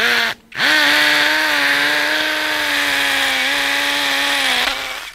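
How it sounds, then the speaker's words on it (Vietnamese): An Akuya K6 cordless drill starts briefly, pauses, then runs loud and close as a steady, high-pitched motor whine for several seconds before winding down. "Rồi mình sẽ khoan các bạn xem nhá."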